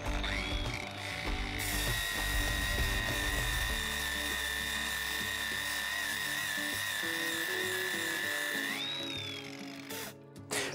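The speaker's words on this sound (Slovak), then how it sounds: "Začnem brúsiť na prvej rýchlosti odbrúsením z varu." A Herman WX-12506 1300 W brushless angle grinder with a ceramic flap disc grinds down a weld on its first speed setting, giving a loud, steady high whine that shifts pitch and winds down near the end, with no talking.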